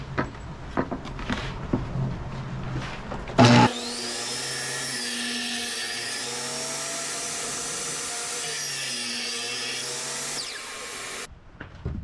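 A thickness planer feeds a solid cherry wood board, starting with a sharp clunk and then holding a loud, steady whining roar for about seven seconds before cutting off abruptly.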